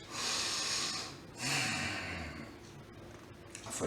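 Deep, audible breaths during a seated breathing exercise for seniors, a long airy inhale followed by a second strong breath, close and clear without talk.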